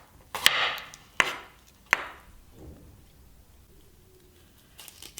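A few sharp knife strikes on a cutting board while two small onions are sliced very fine, three distinct chops close together followed by quieter scraping, no talking.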